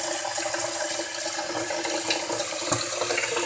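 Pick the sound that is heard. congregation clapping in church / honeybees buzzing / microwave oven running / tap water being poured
tap water being poured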